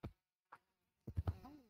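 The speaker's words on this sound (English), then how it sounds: "Run from the bees!" Brief buzzy bursts of bees in the Gorilla Tag VR game: two short faint blips, then a louder cluster of buzzing pulses near the end.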